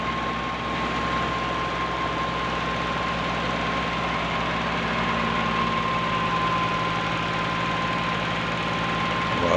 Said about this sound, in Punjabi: ਸਾਊਂਡ ਵੀ ਠੀਕ ਹੈ ਟਰੈਕਟਰ ਦਾ।